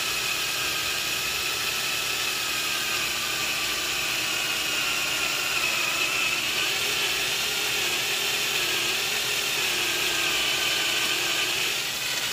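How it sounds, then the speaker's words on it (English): A small drill bit of about 3/32 inch boring into metal on a Jeep during high-steer work, a steady whining drone held for several seconds with no talking. "we're going to start drilling. We'll start with a very small drill bit."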